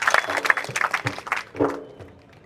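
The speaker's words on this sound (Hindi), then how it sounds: "तो मीडिया के जो भाई आते हैं उनके लिए जोरदार तालियां बजा दो।" Scattered clapping from a crowd at a protest rally at Jantar Mantar, uneven and fading toward the end, mixed with voices and crowd noise.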